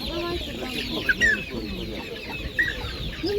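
Roosters cluck repeatedly nearby at a market, with a few sharper squawks standing out over a steady murmur of background noise.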